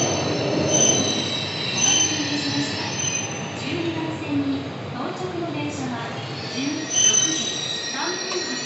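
Railway sounds heard from aboard a Shinkansen while a Hayabusa Komachi train passes, a broad rushing roar with recurring squeals and rising tones, loud and continuous, with voices talking over it.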